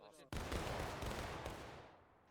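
A sharp volley of game gunfire cracks out after a brief pause, then a loud, dense burst of shots and rumble that slowly fades as the echoes die away.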